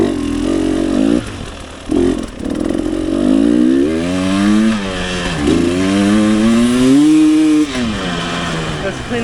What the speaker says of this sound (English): That's cleaning out the engine.